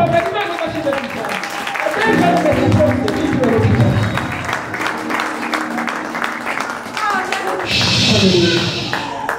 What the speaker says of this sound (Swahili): Pigia Yesu makofi mazito.